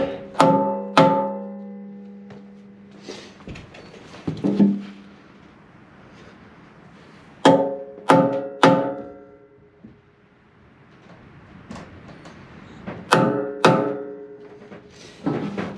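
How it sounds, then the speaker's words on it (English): Sharp metallic taps of a hammer striking a center punch into metal, arriving in quick clusters of two or three ringing hits separated by quiet pauses. "now I am center punching my holes"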